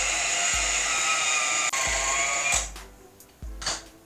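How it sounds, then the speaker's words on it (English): A handheld electric mixer whirs loudly through peanut butter cookie dough, a steady high motor drone broken by periodic knocks against the bowl, then stopping and restarting briefly near the end. "So I'm going to go ahead and start mixing this together with my handheld mixer."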